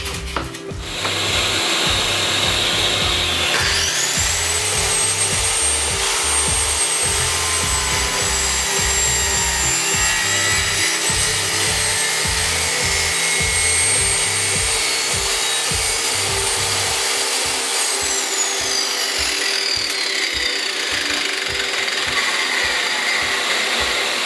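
A saw cuts wooden ceiling boards for a tiny house, taped over the cut line. The loud, steady motor whine runs for over twenty seconds with a rough, chattering rasp of the blade through the wood.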